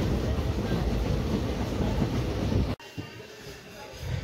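A local passenger train running between Bamanhat and Cooch Behar rumbles along steadily with a loud, continuous roar, then abruptly drops quieter near the end as the noise shifts.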